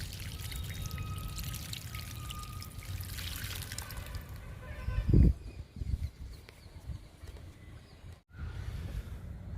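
Water poured from a can holding papaya peels onto potted plants, a steady close trickle and splash with faint birdsong in the background and no talking.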